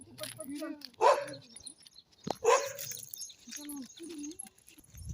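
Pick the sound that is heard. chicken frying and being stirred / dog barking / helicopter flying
dog barking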